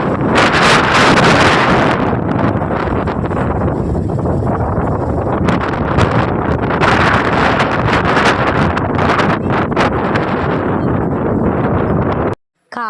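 Strong wind roars and buffets the microphone nonstop at a paddy field viewpoint in Palakkad, a loud rushing gust that cuts off abruptly near the end.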